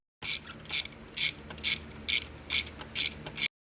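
A ratchet turns a BMW spark plug socket to loosen the spark plugs on a tuned BMW 540i with a B58 engine. Eight crisp, close bursts of rapid clicking come in a steady rhythm, with a faint hum between them.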